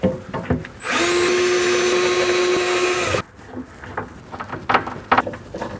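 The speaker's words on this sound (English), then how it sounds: "You can now drill and screw this into place." A power drill whirs steadily for about two seconds, driving screws into a corner organiser arm, then stops, followed by clicks and handling noises of tools.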